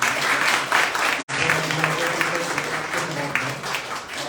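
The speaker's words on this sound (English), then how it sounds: "a big round of applause for her." An audience at a book launch in Ahmedabad gives the chief guest a sustained round of applause, dense and steady, with voices mixed in and a momentary dropout.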